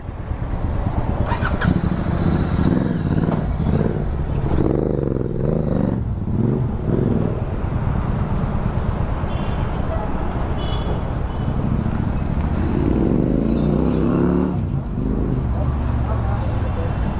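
A Royal Enfield GT 650 motorcycle engine strains and labours in traffic, a loud continuous rumble with rising and falling revs for the whole stretch, with other road vehicles passing nearby.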